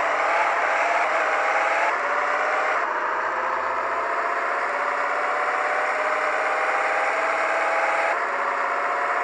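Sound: car engine revving in a drag racing video game

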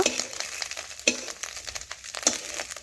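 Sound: fish roe frying and being stirred in a pan

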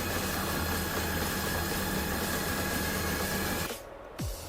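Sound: fire pump engine running

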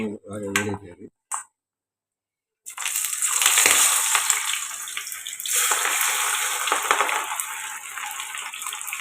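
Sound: onions frying in hot oil

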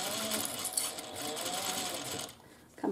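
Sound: sewing machine stitching seam of fabric wristlet

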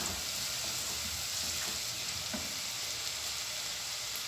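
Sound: sauce added to pasta pan, sizzling

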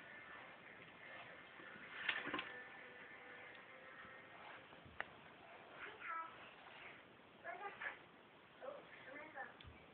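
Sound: child imitating a cat's meow

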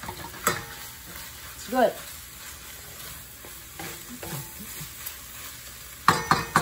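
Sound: shredded beef balado frying and being stirred in a pan

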